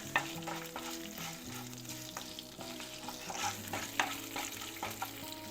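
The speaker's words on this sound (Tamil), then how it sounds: "இதையும் போட்டு ஒரு வதக்கிக்கலாம்" Tamarind pieces sautéing in a pan for a bajji chilli chutney, a steady close sizzle with occasional spoon scrapes and clinks over faint background music tones.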